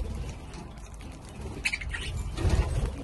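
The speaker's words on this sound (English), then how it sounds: "budgies. Enjoying their millet." Pet budgies chirp in short, scattered bursts while feeding on millet, the calls soft and close against a light rustling background.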